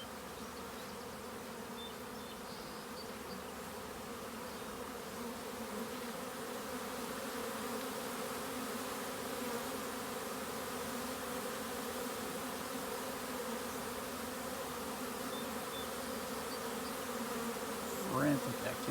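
Honeybees swarm busily around a long row of hives pushed together after a rainy day, a dense, continuous buzzing drone that stays loud and steady, with no talk.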